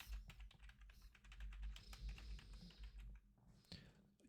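Rapid, steady typing on a computer keyboard while entering text into a Google Sheets cell, a dense run of close, soft clicks continuing for several seconds with a brief pause near the end.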